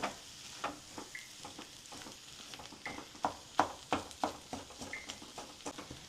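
Meat frying in a pan for Kerala-style irachi pathal, a soft, low sizzle broken by intermittent stirring clicks and scrapes, fairly quiet throughout.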